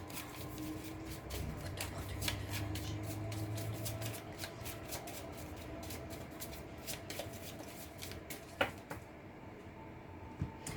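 Tarot cards are shuffled for a four-card reading: a steady, close, soft rustle and riffle of cards that runs on without pause, with a few light taps and no talking.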